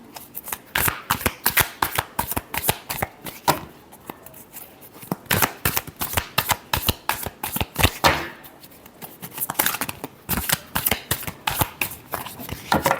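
Tarot cards being shuffled by hand in quick bursts of crisp riffling and flicking, steady and close throughout with only short pauses between passes.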